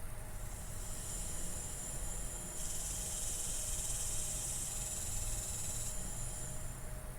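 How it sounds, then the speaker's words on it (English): Backyard insects at about 50 dBA form a steady, high-pitched buzzing chorus over a constant low hiss, with the shrill band swelling louder through the middle and easing slightly toward the end. "So that's Backyard insects,"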